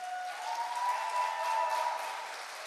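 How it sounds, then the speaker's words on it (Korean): Audience applause at a theatre awards ceremony, a steady, fairly faint wash of clapping that holds evenly for a few seconds with no voices over it. "다시 한번 박수 부탁드립니다"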